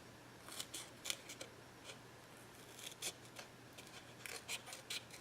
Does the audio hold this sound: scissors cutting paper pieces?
yes